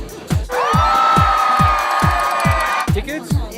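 A crowd at Sydney's New Year's Eve fireworks cheers and whoops close by over a steady beat of low thuds, with voices mixed through the noise.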